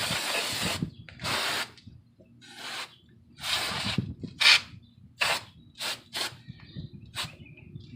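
Rust penetrant sprayed from an aerosol can onto rusted brake parts of a Honda Fit, heard as a series of short hissing bursts of varying length, close and fairly loud, separated by quiet gaps.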